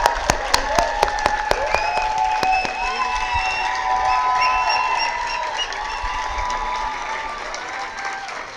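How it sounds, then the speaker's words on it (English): Convocation audience at the CEPT University Faculty of Architecture applauding graduating postgraduates, with sharp claps at first, then sustained clapping mixed with whistles and catcalls from a large hall crowd. "A huge round of applause to a very exciting bunch of specialists going out into the world."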